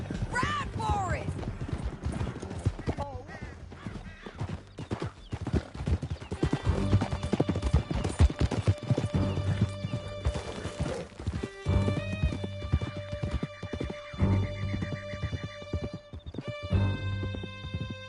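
Horses gallop in Red Dead Redemption 2, a dense, continuous clatter of hooves at close range with an occasional whinny, under game music and shouted character voices.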